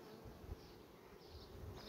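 A swarm of honeybees leaving the hive fills the air with a steady, dense buzzing drone, faint and continuous, with light wind noise and no voices.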